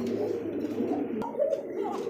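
Low, throaty cooing of Arabian Cocka pigeons, rolling calls repeating close by with a brief click in the middle.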